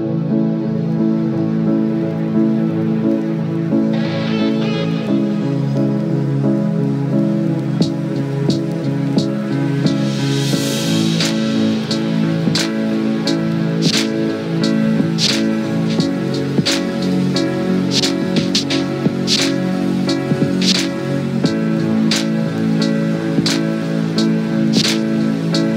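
Rain falls steadily at a stadium, a continuous close patter of drops on surfaces with a constant hiss and scattered sharper taps throughout, with no voices.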